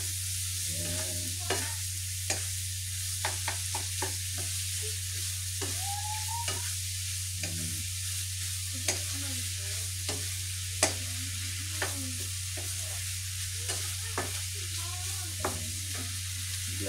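Seasoned food sizzles steadily in a frying pan while a utensil stirs and scrapes through it in scattered strokes, close and moderately quiet, with no one talking.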